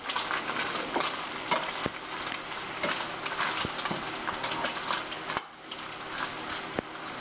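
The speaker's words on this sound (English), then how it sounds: "Grease popping all over the place" Bacon frying in a pan, a steady fairly quiet sizzle broken by sharp crackling pops of grease at irregular intervals, with no talking over it.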